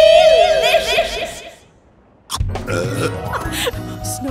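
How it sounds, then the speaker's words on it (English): A cartoon yeti belches loudly after eating snow on a mountain peak, a long, bubbly burp ringing out for over a second, then a short pause before giggling and chuckling voices follow. "Snow burps."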